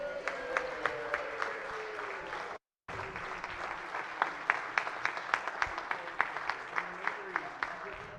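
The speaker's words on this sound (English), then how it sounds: "everyone give a round of applause to Senator Sarah Love" Senate chamber applause for a senator's birthday, sustained clapping from the floor with sharp individual claps standing out, briefly cut by a gap, with some voices mixed in.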